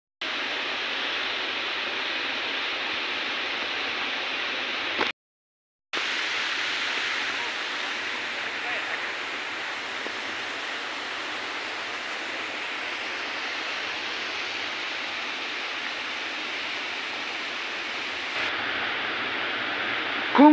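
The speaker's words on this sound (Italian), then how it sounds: "la cascata nascosta di Passerano vista dal basso." Steady rushing roar of the hidden Passerano waterfall heard from below, a constant broadband hiss with one brief cut to silence partway through.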